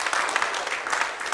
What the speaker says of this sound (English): we would love to actually give you a big round of applause